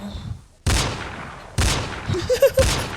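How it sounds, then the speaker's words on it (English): Four loud gunshot sound effects, each a sharp broadband blast, fired in quick succession over about two and a half seconds with a brief quiet gap before the first. "4 of them gunshots for 1 for each show."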